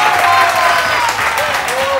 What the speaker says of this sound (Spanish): Aplauso para Tamara, que ha hecho 12 puntitos.